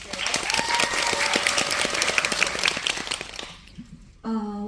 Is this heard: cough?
no